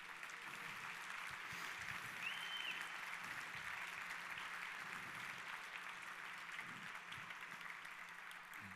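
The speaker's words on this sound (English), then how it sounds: "Let's give them a humongous round of applause." Steady, dense applause from an audience at a tech talk honoring the sponsors, a continuous even wash of clapping at moderate level for about nine seconds, with no voices standing out.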